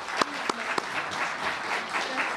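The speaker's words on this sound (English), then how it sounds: "Please join me in applauding Matt as he receives his award." An audience at an award presentation gives a brief round of applause, steady clapping from a modest crowd at moderate distance, with a few sharper claps near the start.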